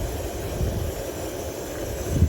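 Strong wind blows outdoors at a fishery, a steady broadband rush with low buffeting gusts across the microphone, loudest toward the end.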